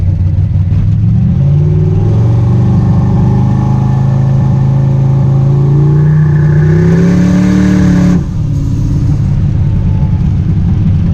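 A twin-turbo, tunnel-ram Chevrolet Nova engine on a street dyno revs loudly and close up, its pitch climbing steadily over several seconds before it cuts off abruptly and settles to a rough idle.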